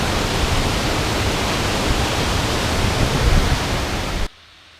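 Loud, continuous rush of water along a mountain trail, a broad dense roar that holds steady and then cuts off abruptly near the end.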